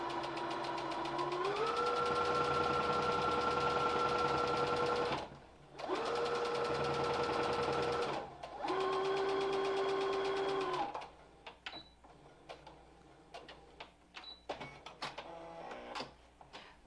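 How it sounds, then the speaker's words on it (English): Sewing machine stitching the top and bottom seams of a fabric mask, three steady whirring runs with brief pauses between them, followed by quieter handling noises. "Once you have done sewn the top and the bottom, you're going to turn your mask right side out."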